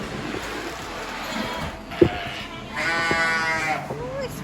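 Sheep bleat several times, close by, as they are let out, amid shuffling and background movement, with people talking intermittently.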